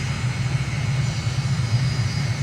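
MiG jet in a flight simulator throttling up for takeoff on runway 09 at Simón Bolívar Airport, Caracas, climbing an uphill stretch: a steady, loud low engine drone with a faint high whine, continuous and unbroken throughout.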